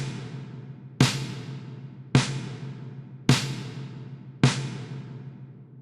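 Snare drum hits sent through an Arturia Reverb Plate 140 plate reverb: five evenly spaced loud cracks about a second apart, each trailing off in a long bright shimmering tail, with no voices.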